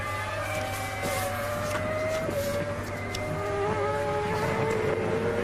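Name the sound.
Formula 1 car engine, 2002 San Marino Grand Prix warm-up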